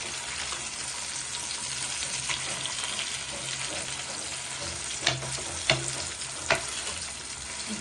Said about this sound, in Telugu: పక్క ఫ్రై అయ్యేదాకా ఉంచుకొని తిప్పుకోవడం మళ్ళీ అటు కొంచెం ఫ్రై అయ్యాక తిప్పుకుందాం